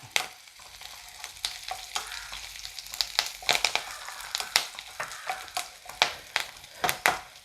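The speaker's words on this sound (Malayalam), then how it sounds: "ഇനി നമുക്ക് കുറച്ച് കറിവേപ്പില ഇട്ട് കൊടുക്കാം." Curry leaves drop into hot oil that already holds two dried red chillies, and they crackle and sizzle sharply with irregular loud pops over a steady frying hiss. Close stirring scrapes run through it with no talking.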